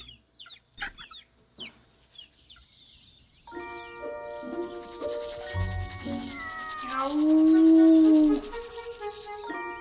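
Several stray cats meow and give drawn-out yowls, close and loud, following a few sharp clucking calls, with a steady hum underneath.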